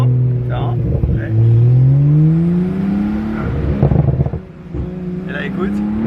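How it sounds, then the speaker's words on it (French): A Porsche 911 Turbo in sport mode revs its exhaust up through the range, rising in pitch to a loud, close roar, then drops back with crackling pops, while people talk over it. "quand tu montes dans les tours, elle fait vraiment le bruit d'une GT3. Et après, des pops dans tous les sens"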